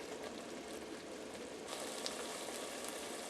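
Tomatoes and hot pepper paste simmering in a pot, a steady soft bubbling hiss that stays even and fairly quiet throughout, with no voices.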